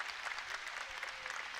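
A crowd and team bench at a women's basketball game between Baylor and Iowa applaud, a steady patter of clapping heard from some distance, fairly soft and even throughout.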